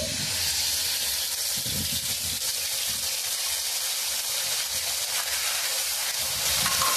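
A steady, loud hiss of onion and green chilli paste frying in a hot pan, continuous throughout with faint stirring underneath and no talking.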